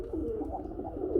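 A pair of black Dauka pigeons coo softly and continuously at close range, with low, throaty, rolling calls over a faint background hum.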